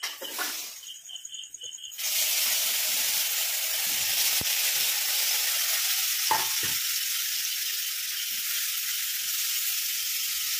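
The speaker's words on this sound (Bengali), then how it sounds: "পনিরগুলো কড়াই দেওয়া হয়ে গেছে, ভাজা হবে।" Loud, steady sizzling of paneer pieces frying in hot oil in a kadai, starting suddenly after a brief quieter moment, with an occasional clink.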